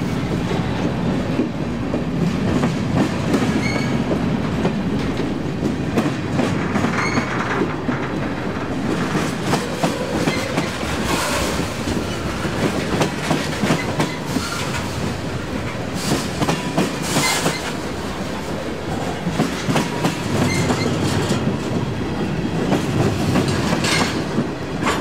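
A CSX freight train rolls past on the Pittsburgh Subdivision, a loud, steady rumble with rhythmic clickety-clack of wheels over rail joints and occasional squeals, close by and continuous throughout.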